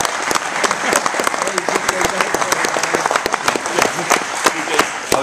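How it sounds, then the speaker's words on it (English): An audience applauds the delivery of Air Asia's 100th A320, a steady burst of clapping with a few louder individual claps standing out, while voices murmur underneath. "I think we should give that a round of applause."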